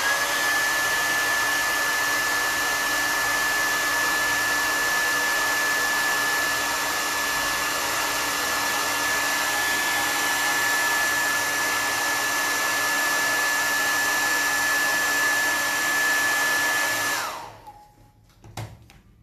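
A hair dryer blows to dry colored paint on craft paper. It gives a loud, continuous whooshing roar with a faint high whine that holds steady for about seventeen seconds, then cuts off and winds down, followed by a few small handling noises.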